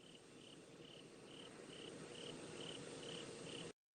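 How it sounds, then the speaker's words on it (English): Crickets chirp in steady, evenly spaced pulses behind a constant broadband hiss, fairly faint and continuous for a few seconds before cutting off abruptly. "The crickets are just hysterical."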